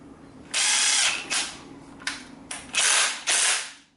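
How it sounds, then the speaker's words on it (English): Power drill ratcheting in a series of loud, harsh mechanical bursts, roughly five close together and separated by short pauses, with no talking. "That's the ratcheting sound."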